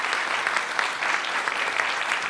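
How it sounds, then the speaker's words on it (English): Audience applause for a guest speaker at a press club luncheon: a dense, even wash of many hands clapping, steady and sustained throughout. "How about a round of applause for our guest speaker today?"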